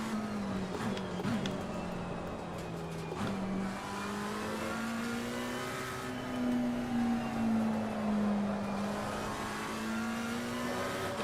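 Race car engine in Assetto Corsa Competizione at the Nürburgring, running steadily through an understeering corner with a sustained, slowly shifting drone and faint tyre scrub, no talk.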